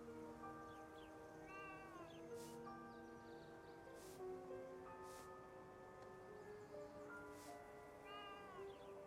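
Cats in the video game Kunitsu-Gami: Path of the Goddess give several short, faint meows over quiet game music, spaced every second or two.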